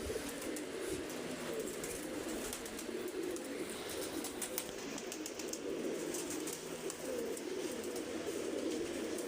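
Pigeons cooing softly at a loft or rooftop where they settle and land, a steady low murmur running throughout under a faint background of other birds, without talk.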